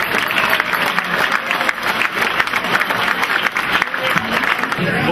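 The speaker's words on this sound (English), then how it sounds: "Give yourselves a round of applause." A packed dinner crowd at a Jefferson Jackson Dinner opening ceremony gives a loud, continuous round of applause, dense clapping filling the hall, with some crowd murmur mixed in.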